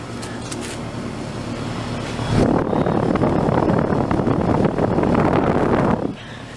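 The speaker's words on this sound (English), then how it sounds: "It's got a Bristol reciprocating compressor. You can hear the Bristol running down there." A Carrier high-efficiency air conditioner with a Bristol reciprocating compressor starts up partway through, becoming a loud steady droning hum with fan rush, then cuts back down near the end.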